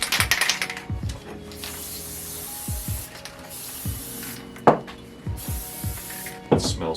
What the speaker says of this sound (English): Spray glue all over the place.